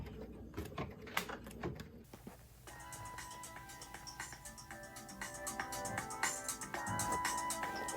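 An embroidery machine powers up with a few clicks, then starts stitching in a fast, steady mechanical rhythm of needle strikes that grows a bit louder and busier, close by.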